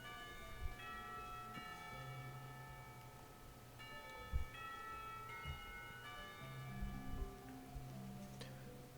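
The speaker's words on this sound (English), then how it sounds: "everyone seems surprised when the bell signals the end of the lessons" A school bell chimes to mark the end of lessons, used as a visual novel sound effect: a series of ringing bell tones recurring across several seconds, quiet and resonant with faint background texture.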